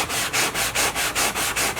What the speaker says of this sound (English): when you sand, you're going to use like a 400 or a 600 grit